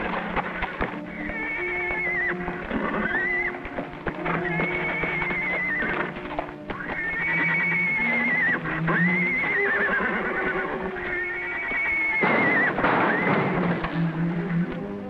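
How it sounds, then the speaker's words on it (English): A horse whinnies several times in high, wavering calls, with hooves clopping and thudding underneath, fairly close and loud. "It must be the kid's horse."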